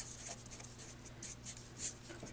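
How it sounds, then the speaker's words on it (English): Pen or marker writing out a trig derivative, with quick soft scratchy strokes and small taps in a steady rhythm, faint and close with a low background hum. "let's write it all out here"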